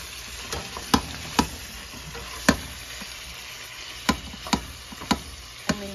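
Liver and rendered pork fat sauté for igado in a pan, with a steady low sizzle broken by sharp, irregular scrapes and taps of a stirring spatula.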